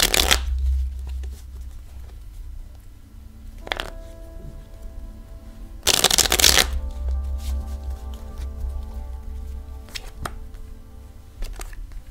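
Tarot cards being shuffled before a reading, with bursts of riffling and sliding cards repeating several times at close range, including a loud burst near the middle, with no talking.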